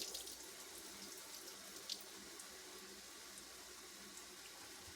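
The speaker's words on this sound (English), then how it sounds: "I'm going to go ahead and put in my home canned vegetables, and I need to drain the liquid off" Liquid pours steadily off home-canned vegetables into a sink, a quiet continuous trickle and splash with one brief clink near the start, no voices.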